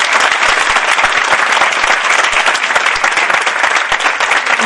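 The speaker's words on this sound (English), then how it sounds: "Please give her a big clap." A dense, loud round of clapping from a workshop audience at a Montessori training session, sustained and even throughout with no talking.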